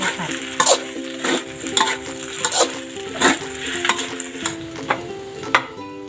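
Oil sizzling in a pan while noodles are stir-fried for rad na, with repeated scraping and clanking strokes of a spatula against the metal pan at an uneven rhythm, close and fairly loud.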